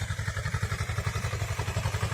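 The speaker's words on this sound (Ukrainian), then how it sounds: "Трактор Т-3069, оприскувач жармет 300 літрів" A T-3069 tractor fitted with a 300-litre sprayer idles close by, its engine pulsing in a fast, even chugging rhythm with rattling clatter, loud and alone.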